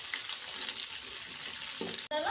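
Green chillies sizzle in hot oil while being stirred in a pan for a spiced pea curry, a soft steady frying hiss broken near the end by a sharp metallic clink.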